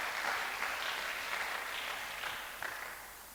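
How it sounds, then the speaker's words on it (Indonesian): Audience applause at a youth retreat worship service, a soft, steady wash of many hands clapping at a distance, gradually fading toward the end. "Beri tepuk tangan buat generasi ini"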